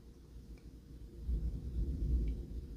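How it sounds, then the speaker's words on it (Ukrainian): Low, distant thunder rumbling from a storm outside, a faint soft roll that swells in the second half, with no voices. "гроза на дворі."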